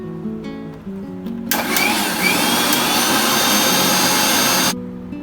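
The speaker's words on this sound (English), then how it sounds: "Grind the fried ingredients and tamarind into a mixer." A kitchen mixer grinds fried onion, coconut, curry leaves and tamarind in one loud, harsh whirring burst of about three seconds that starts abruptly and cuts off, with quieter background sounds before and after.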